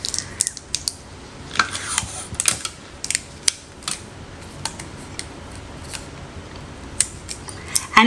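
Adhesive tape being pulled and pressed down while wrapping a slate rock, giving a series of sharp crackly rips and sticky peels spread irregularly through the stretch, close and fairly loud with no talking.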